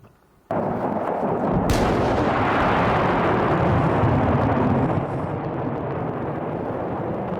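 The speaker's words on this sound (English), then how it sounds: "let's show you a video from earlier when that big explosion did happen" A fireworks facility in Esparto explodes with a sudden massive blast, then a long, dense roar of rumbling detonations and crackling pops carries on without pause, heard from a distance and loud throughout with no voices.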